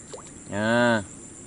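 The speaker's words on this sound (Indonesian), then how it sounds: "Sapi tenan." Cow mooing outdoors near a river fishing spot, a single drawn-out low call lasting about half a second, moderately loud against quiet background.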